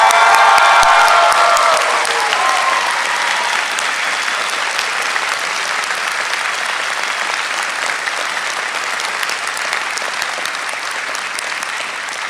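A large graduation audience for a business school's MBA ceremony applauds the faculty, with loud sustained clapping that starts dense and full and slowly thins and softens over about twelve seconds, with no voices over it.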